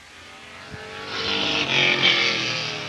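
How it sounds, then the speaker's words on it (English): Race car at a speedway passing close, its engine rising into a loud high-pitched roar that swells and fades slightly as it goes by, no voices over it. "here he is driving into Victory Lane in car number 79"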